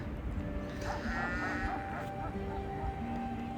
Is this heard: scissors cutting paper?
no